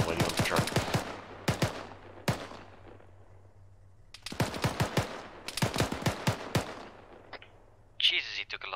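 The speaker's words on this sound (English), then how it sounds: "Taking heavy fire, don't know from where." Machine gun fire in the military shooter game Arma 3: rapid bursts of loud, close gunshots, pausing briefly between volleys, with a brief different burst of noise near the end.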